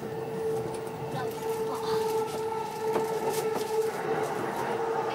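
A Keihin-Tohoku Line rapid train pulls into Ueno station, heard from inside the car as a steady rolling rumble with a sustained tonal whine, soft clicks of wheels and a faint announcement voice underneath.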